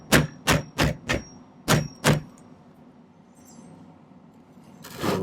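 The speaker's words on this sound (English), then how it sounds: "do a little bit of manual forging here" Hand hammer forging a silver wire ring on a mandrel-like form rings out as six sharp metallic strikes in quick succession, then a quiet pause before another hit at the end; close and loud, with no speech.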